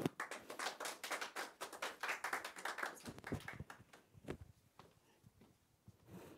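Audience applause at an education conference, a dense burst of many hands clapping that swells for about three seconds, then thins into scattered claps and taps as it fades.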